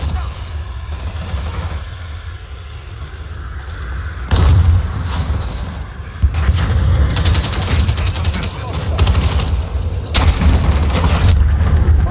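Cruise missile explosions in Call of Duty Modern Warfare, Gun Runner map, Hardcore Headquarters match: heavy booming blasts that hit, swell and rumble on alongside gunfire, loud and close, with a voice talking in between.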